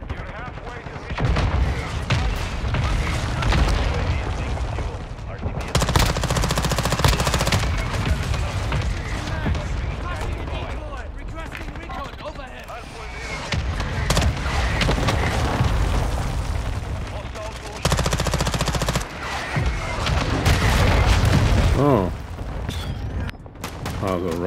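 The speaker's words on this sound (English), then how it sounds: "Friendly mortar strike inbound." Mortar strike explosions and heavy gunfire rage in Call of Duty Modern Warfare 2 on the Shoot House map, with a BAS-P submachine gun firing in loud, dense, continuous bursts and booms while in-game voice callouts speak over the battle.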